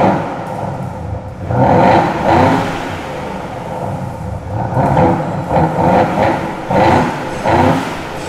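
A loud engine-like exhaust drone from speakers in a Mercedes G350d diesel in comfort mode rumbles steadily, swelling in repeated surges as if being revved, with no talking.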